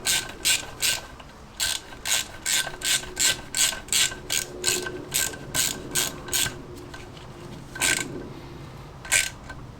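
A hand ratchet tightens crankshaft bolts on a classic Fiat 500 engine, giving sharp, close ratcheting bursts in a steady rhythm of short strokes, then a pause and two final pulls.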